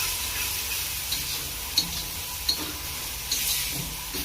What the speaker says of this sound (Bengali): এই মশলাটাকে কষাচ্ছি।